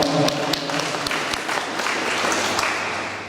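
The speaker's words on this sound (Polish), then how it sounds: "Wielkie brawa dla Faustyny, która pięknie nam zagrała" Audience applause after a violin performance at the opening of a national philatelic exhibition for the 85th anniversary of Azoty Tarnów, a steady wash of clapping throughout with a few louder claps standing out.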